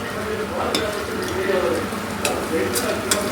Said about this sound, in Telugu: ఆల్మోస్ట్ అన్నీ వేసిన ఇలా ఇంకొక 5-10 నిమిషాలు మనం ఫ్రై చేసుకుందాం.